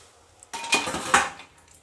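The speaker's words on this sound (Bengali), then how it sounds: "এখন আমি 2 মিনিট মতো ঢেকে দেবো।" A metal lid set onto a cooking pot, a short clatter of metal on metal with a second ringing clink, close and clear over a quiet background.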